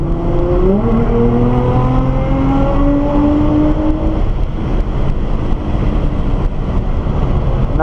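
A Nissan GT-R accelerates hard on a race track, its engine note rising steadily through the revs at near full throttle, loud and close, heard from inside the car with constant road and wind roar.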